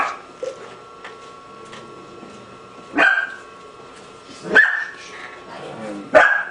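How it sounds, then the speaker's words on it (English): A small dog barks in the background, three short sharp barks spaced about a second and a half apart, fairly distant behind steady indoor room noise. "And that's Nigel, our killer attack dog you hear in the background."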